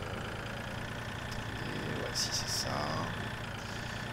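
Tractor engine idling and rumbling steadily in Farming Simulator 2013 with a large trailer hitched, a continuous low drone under a voice speaking French.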